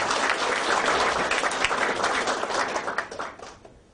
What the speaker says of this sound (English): should we give one more round of applause and continue on?